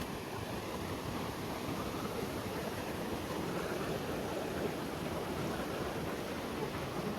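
At night on a shore during crab catching, incoming water makes a constant, soft broadband wash that stays even throughout, mixed with a breath of wind.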